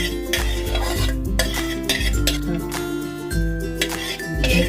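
A spoon spreads a spoonful of oil around a hot kadai on a gas stove, with metallic scraping and clinks over music, near and moderately loud.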